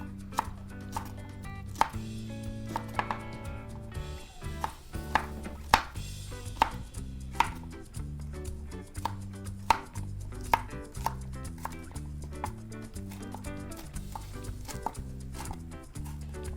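Three or four green chillies being finely chopped with a knife on a board for Afghani chicken curry, rapid crisp taps in uneven bursts over soft steady background music.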